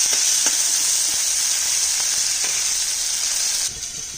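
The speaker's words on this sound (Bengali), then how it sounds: "পেঁয়াজ আর টমেটোটা একটু লাল করে ভাজবো।" Onion and tomato frying in a pan, giving a loud, steady hiss of sizzling oil with a few faint stirring taps throughout, easing slightly near the end.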